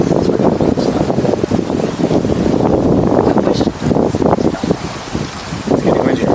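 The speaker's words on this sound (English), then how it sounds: "It's getting windier." Wind buffets the microphone outdoors with a constant loud rumbling roar, gusting unevenly for several seconds and covering everything else.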